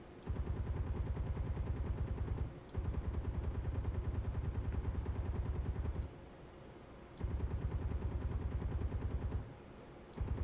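Sustained turret gunfire in Space Engineers, a steady rapid rattle in long bursts of several seconds separated by brief pauses, loud and continuous with no voices.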